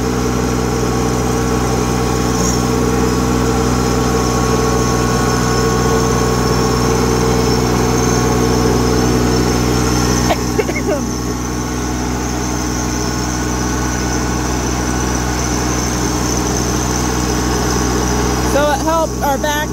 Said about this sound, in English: I'm hoping you guys can even hear me over the tractor noise.